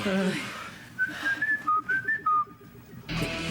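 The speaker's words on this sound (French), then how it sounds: "Vous venez de leur siffler notre nouvelle position." Person whistling a short run of clear, pitched notes in quick succession between bursts of background noise, standing alone with no talk over it.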